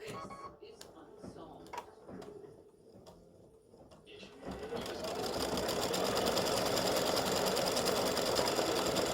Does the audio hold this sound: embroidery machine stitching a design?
yes